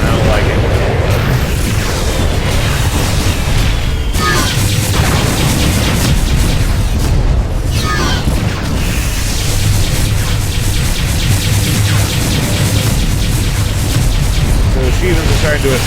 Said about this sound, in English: Somebody's firing off synaptic bombs, and I don't like it.